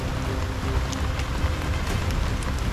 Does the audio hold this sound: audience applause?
no